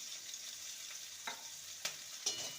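Chopped onion and green chilli fry lightly in a pan with a soft, steady sizzle. A few sharp spatula knocks or scrapes stand out near the end, and no one talks.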